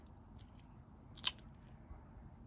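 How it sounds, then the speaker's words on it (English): Ceramic scissors or curved-blade tile nippers snip a ceramic plate into petal shapes, giving two short, sharp crunching clicks about a second apart that stand out against a quiet background. "ceramic scissors."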